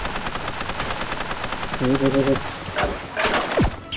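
Bursts of gunfire in the video game Super Raft Boat Together, shooting at a sea creature from a raft, fast repeated shots mixed with game effects and a brief rising tone.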